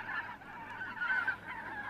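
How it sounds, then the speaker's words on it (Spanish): Geese honk repeatedly in a steady chorus from a middle distance, heard alone with no voices, as if through a window during a stage play. "¡Y esos son gansos!"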